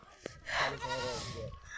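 A goat bleats once, a wavering nasal cry up close, following a brief sharp knock, with soft background noise.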